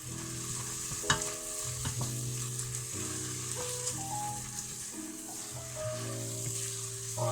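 Tomato paste cooks down in a pan with chilli con carne ingredients, sizzling steadily as a utensil stirs and scrapes it in repeated strokes, close by with a few sharp clinks.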